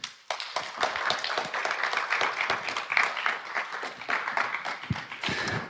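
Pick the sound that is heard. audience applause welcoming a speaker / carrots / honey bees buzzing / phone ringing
audience applause welcoming a speaker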